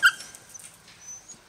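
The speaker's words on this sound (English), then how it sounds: "Yeah, these are some beautiful dogs, these guys." Norwegian Elkhound dogs in a large outdoor pen give a few brief, faint, high-pitched whimpers, the loudest at the start and softer ones scattered after, with no talk.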